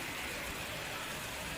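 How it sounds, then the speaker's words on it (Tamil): Heavy rain driven by strong wind pours steadily over Thirumangalam near Madurai, a dense, even hiss with no pauses and no voices. "பலத்த காற்று மற்றும் இடியுடன் கூடிய மழை பெய்து வருவதால்"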